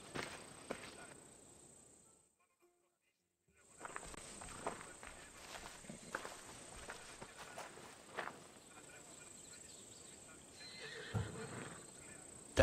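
A horse in the video game Assassin's Creed Odyssey neighs and its hooves clop on the ground amid game ambience, with a brief silent gap partway through and voices talking over parts of it.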